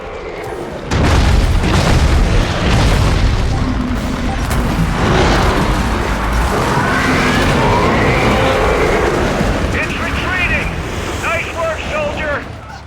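Horde catapults firing with heavy booming explosions and fire in a modded World of Warcraft battle, a dense, loud, continuous roar of impacts and rumble throughout, with a voice talking over it.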